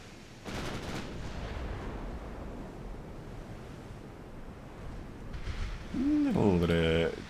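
Naval gunfire in a warship video game: a sharp, loud blast early on trails into a long noisy rumble, and a brighter tonal burst sounds near the end.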